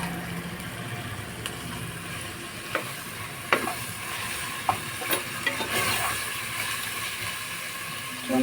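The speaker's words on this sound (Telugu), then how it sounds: "అది వేగిన తర్వాత చికెన్ కూడా వేసుకున్నాం." Chicken joints fry and get stirred in a pot of oil for a Sunday biryani, with a steady sizzle broken by scraping and clinking strokes of the spoon against the vessel.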